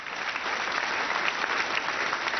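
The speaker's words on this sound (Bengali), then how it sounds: "ওদের জন্য হবে একবার জোরে হাততালি" Loud, dense applause from a crowd clapping for a group of children, sustained and even with no pauses.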